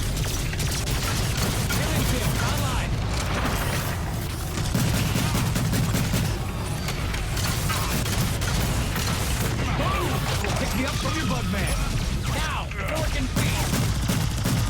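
Shotgun fire and other weapons in the video game Evolve, heard as a dense, loud, continuous barrage of blasts and booms with no pauses, layered with game effects.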